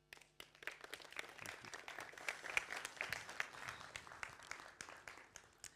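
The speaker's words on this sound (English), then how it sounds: "Big round of applause." Audience applause at a technology and digital culture symposium, a crowd clapping steadily at moderate distance for several seconds, with scattered individual claps standing out and a faint voice or two underneath.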